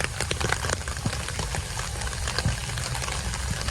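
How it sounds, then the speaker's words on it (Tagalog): Heavy monsoon downpour during a typhoon in the Philippines, a dense, continuous hiss of rain with scattered sharper drops and splashes on nearby surfaces, close and steady, no talking. "Grabe, lakas mo talaga ng ulan, no?"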